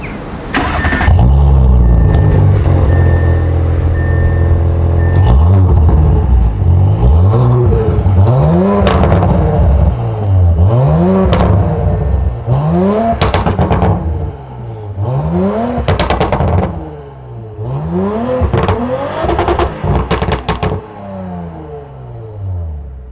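A loud Audi S5 F5 3.0 TFSI Stage 2 tuned engine revs repeatedly, each rise ending in sharp exhaust pops and crackles, several bursts in a row at close range.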